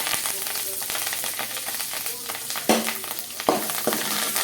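Cumin, black pepper and curry leaves fry in hot oil over low heat, giving a steady, dense sizzle throughout with a couple of sharper crackling bursts as the spices spit.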